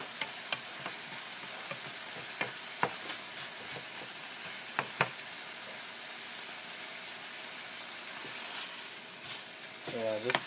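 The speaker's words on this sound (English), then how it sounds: "just stir it around a few more times and the dish should be good" Ginger pork sizzles steadily in a pan on an electric stove, a constant frying hiss with occasional clicks and scrapes of stirring; a voice briefly comes in near the end.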